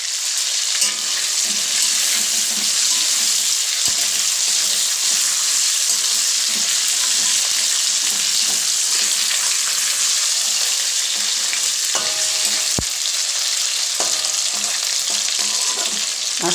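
Hilsa fish fries lightly in hot oil, making a continuous, dense, loud sizzle with occasional faint clicks of a utensil against the pan.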